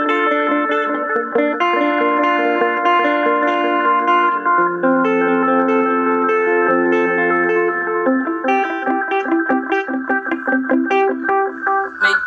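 Clean electric guitar through a dotted delay pedal, a picked melodic line whose notes repeat in rhythmic echoes that overlap and trail off, loud and continuous with no talking.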